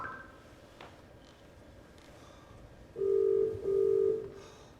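Mobile phone call outside in a park: faint tapping and low background ambience, then two loud steady ringback tones, each lasting about half a second, with a short gap between them.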